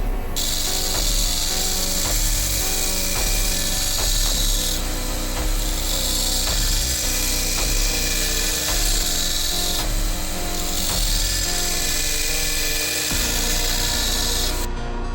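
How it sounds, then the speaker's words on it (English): A Craftsman 2x42 belt grinder runs loud and continuous as it grinds a Magnacut steel knife blade, a steady high abrasive whine with the motor humming underneath and slight changes in pitch as the blade is worked. "All right, so grinding's coming along."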